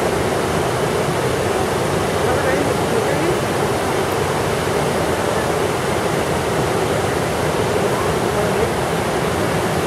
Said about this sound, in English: We still got the thermal river.